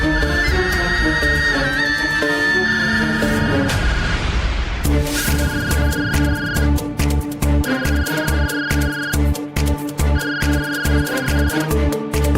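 Telephone ringing during a Marathi TV serial scene, a repeated electronic ring tone sounding in bursts over background music, with someone speaking nearby.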